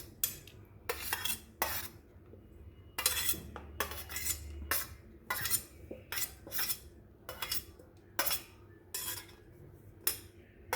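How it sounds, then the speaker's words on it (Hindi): A spoon clatters and scrapes against a bowl in irregular bursts as mashed potatoes and poha are mixed with spices, close and clear, with quiet pauses between strokes and no speech. "ये जो सारी चीज़ें हैं वो सब एक एक करके इसमें मिक्स करेंगे।"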